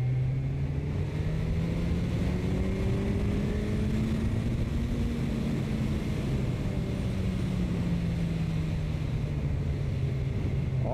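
A powerful motorcycle in third gear pulls hard up to about 7000 rpm. Its engine drone climbs steadily, holds, then eases back, loud and close for the whole stretch with no voices.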